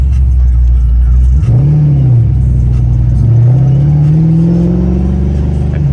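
A loud supercharged 5.0 engine in a 1993 Ford Mustang Foxbody revs up and accelerates, its pitch climbing twice in long sweeping rises, close and continuous with a heavy low rumble underneath.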